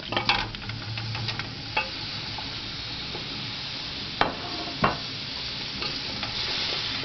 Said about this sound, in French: Voilà, je vais ajouter ma viande.